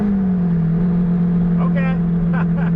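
A turbocharged car pulls hard in third gear on a highway, its engine a loud, steady drone with the pitch holding nearly level, heard close from inside the cabin alone.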